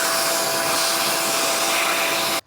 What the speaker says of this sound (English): I think I want to actually vacuum out all the dust in here.